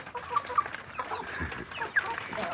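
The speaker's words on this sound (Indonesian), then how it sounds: "Di sore ini saya memberi makan anak ayam kampung saya dengan saya beri makan jagung dulur." Young kampung chicks peck at ground corn, with soft scattered clucks and chirps close by, light pecking and rustling throughout, and no talking.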